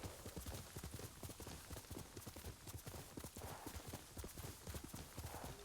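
Horse hooves clop in a steady, fast rhythm in the video game Ghost of Tsushima, a continuous galloping patter with a faint hint of neighing, heard fairly quietly.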